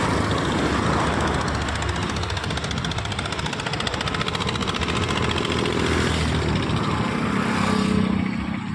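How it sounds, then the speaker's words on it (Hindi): A motorbike comes up from behind on a road beside a railing, its engine a steady, loud rumble mixed with broad traffic noise and wind throughout. "पीछे से बाइक भी आ रही है।"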